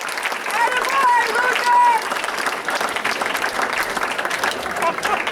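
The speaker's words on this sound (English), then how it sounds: "Give him a big round of applause" A comedy show crowd applauds as a comedian walks on stage, a dense wash of clapping carrying some whoops and cheering voices throughout, loud and sustained.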